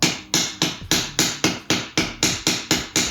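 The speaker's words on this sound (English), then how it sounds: "tapping them at this point helps to mush them down and into all of the spaces" A hammer taps pins into a knife handle held in a vise, eleven sharp, evenly spaced strikes about every quarter second, close and loud, with no talk.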